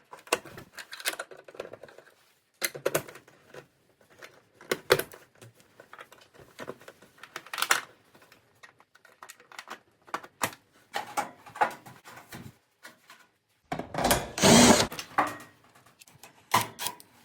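Screws being driven back into the back panel of a Kenmore oven, a series of short metallic clicks and scrapes in irregular bursts with pauses, plus one louder, brighter buzzing burst near the end.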